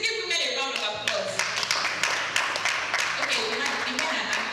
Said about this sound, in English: Please give women a round of applause.